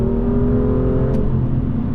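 BMW engine revving at high rpm with Active Sound Designer switched on, a loud, steady, droning engine tone heard close up from the cabin, holding for a couple of seconds without talk.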